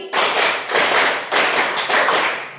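A class of students in a Catholic religion lesson claps in unison, producing four loud, evenly spaced bursts of group hand clapping.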